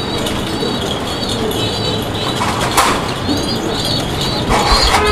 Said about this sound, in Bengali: এই যে দুইটা বাচ্চা আপনারা দেখতে পাচ্ছেন, ওদের মায়ে কিন্তু খাওয়াইতেছে।